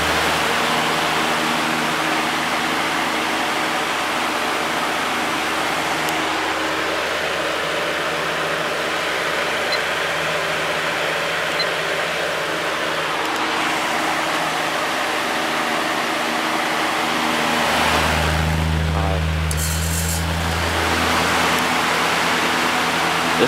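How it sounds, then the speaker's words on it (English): A vintage Patton electric fan spins fast, producing a loud, steady broadband whoosh with a low motor hum that holds for the whole stretch. Near the end the hum briefly deepens and a clatter breaks in. "This one spins really fast. Using a lot of power."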